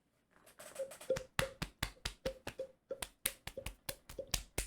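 Sharp, distinct hand claps ring out one after another in an irregular series of about twenty, close and fairly quiet, with brief gaps between them and no talking.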